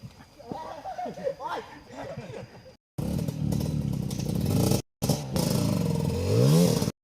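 A JR Super Cup motorcycle engine runs loudly and close, a steady buzzing drone that cuts out briefly and then rises into revving, after an opening stretch of talk.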